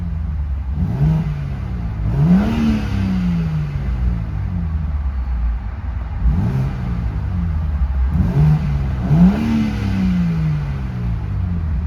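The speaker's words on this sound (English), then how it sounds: "We're gonna go ahead and give this vehicle a quick rev and see what kind of sound this vehicle makes." A 2026 BMW M4 xDrive Competition convertible engine being revved at a standstill, with repeated sharp blips rising in pitch and falling back to a steady idle, loud and close.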